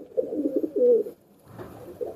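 Close, low pigeon coos in two soft bursts separated by a short pause, clear and alone without any talking.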